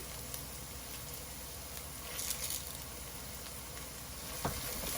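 Onions sautéing in a pan for sardine mango curry, a continuous soft sizzle and crackle broken by a few brief stirring scrapes, close and steady with no voices.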